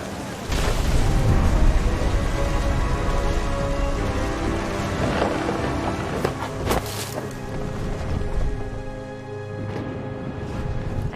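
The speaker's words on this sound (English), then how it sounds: "Thunder sounded much too close and full of angry power." Deep, rumbling thunder in the video game What Remains of Edith Finch, rolling continuously over steady rain with a few sharper cracks midway, loud and close throughout.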